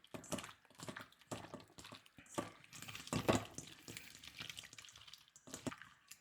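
Raw shrimp are stirred together with egg white in a bowl, giving soft, wet squelches and clicks in an uneven rhythm, close and fairly quiet.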